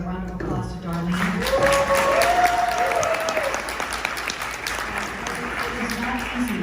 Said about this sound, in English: I'd like everybody to give a round of applause to Darlene.